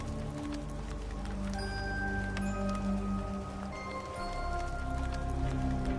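Steady rain patters on a surface with a constant soft wash of drops, no voices, a faint low rumble underneath.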